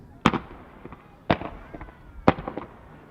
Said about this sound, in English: A comet is basically a solid chunk of pyrotechnic material that, when ignited, rises into the night sky with a uniform tail